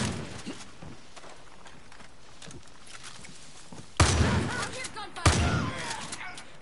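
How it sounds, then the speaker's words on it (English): Gunfire in the video game Far Cry New Dawn, a couple of loud sudden shot bursts after a stretch of faint background noise and soft game sounds. "Really, you hear gunfire"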